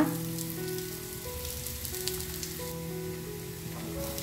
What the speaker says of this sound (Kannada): ಈ ಸೈಡು ನಾವು ಚೆನ್ನಾಗಿ ಬ್ರೌನ್ ಆಗೋ ತನಕ ಬೇಯಿಸ್ಕೊಂಡು ಬರೋಣ